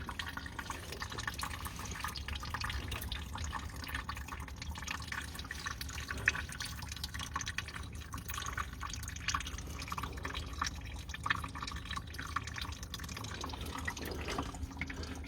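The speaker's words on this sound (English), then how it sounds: "I'm going to let that drain, and I've undone the cap on the reservoir" Coolant draining from a Ford Mondeo Mk4 1.8 TDCi engine, a quiet, continuous trickle and patter of liquid with scattered drips, steady and faint throughout.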